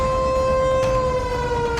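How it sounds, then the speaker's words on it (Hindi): Air raid sirens sound during a blackout in Pakistan, a steady sustained tone with rich harmonics holding throughout, loud and unbroken over a low background rumble. "बार बार बज रहे ये सायरन"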